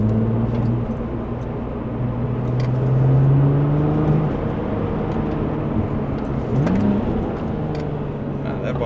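A Porsche 996 Turbo's engine drones steadily as the car drives a road through the Black Forest. The pitch dips and climbs through heel-and-toe downshifts between third and second gear, with a quick blip near the end.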